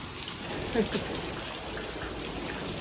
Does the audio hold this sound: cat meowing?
no